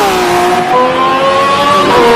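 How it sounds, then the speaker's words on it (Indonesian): A yellow toy race car emits a loud, continuous electronic engine whine with steady droning tones that slide slightly in pitch, close by and without speech. "Ini mobil balap."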